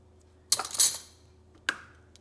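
Metal forks and spoons clink as they are set down in a kitchen drawer: a bright rattling burst, then a single sharper clink a moment later, close and fairly quiet.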